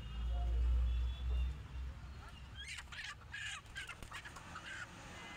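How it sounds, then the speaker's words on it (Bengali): Ducks and chickens at a village poultry market, including large Chinese ducks and roosters: scattered clucks and quacks come through a crowded, low background rumble, with people talking nearby. "এত বড় বড় হাঁস দেখুন, রাজা হাঁস, চীনা হাঁস, কত হাঁস এইখানে"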